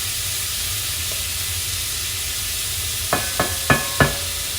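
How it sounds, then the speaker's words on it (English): Green peppers and onions saute in a very hot pan with a continuous loud hiss, broken near the end by four quick utensil knocks against the pan. "And we're just gonna saute them for a few minutes until they soften up just some."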